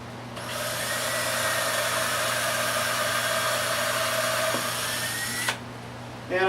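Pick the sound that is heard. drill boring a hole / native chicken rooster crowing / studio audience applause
drill boring a hole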